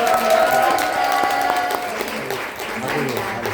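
Audience applause rings out after a lecture at an indoor meeting, a crowd clapping under a sustained musical tone and faint cheering, staying fairly loud throughout.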